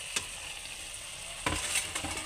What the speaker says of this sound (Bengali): তো এবার ইচা মাছগুলি আমি দিয়ে দিচ্ছি।